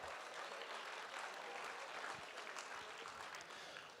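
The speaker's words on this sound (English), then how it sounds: "Big round of applause then to all the generous people." Audience at a Make-A-Wish Idaho charity wish auction applauds in a steady, dense burst of clapping that fills the room for several seconds, easing slightly toward the end.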